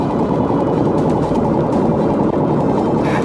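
Police car siren wailing steadily and loudly during a highway pursuit on I-75, a continuous dense wail with no voices over it.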